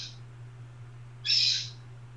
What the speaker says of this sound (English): As you can tell, the bird is freaking out.